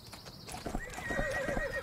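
Horse hooves clip-clop at a steady riding pace in the video game Horse Tales, with a neigh and a warbling tonal sound rising over the hoofbeats; no talk.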